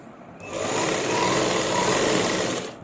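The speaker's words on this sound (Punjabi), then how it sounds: "ਸ਼ੁਰੂ ਕਰਦੇ ਹਾਂ ਜੀ ਆਪਾਂ ਸਲਾਈ ਲਾਉਣੀ" A sewing machine stitches buckram into a shirt collar in one continuous whirring run of about two seconds, close and loud, starting and stopping sharply with no talking.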